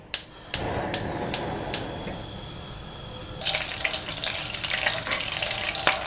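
Butter melts in a frying pan with cooking oil over a lit stove, giving a steady sizzle and crackle that swells in the second half, with a few sharp clinks of a utensil near the start.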